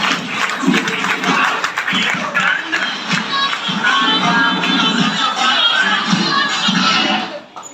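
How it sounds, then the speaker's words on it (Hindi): Audience clapping at a lifestyle business event in India, loud and fairly close, with a rhythmic, uneven texture and a few voices over it, running several seconds before cutting off abruptly near the end. "आपकी जोरदार ताली के साथ"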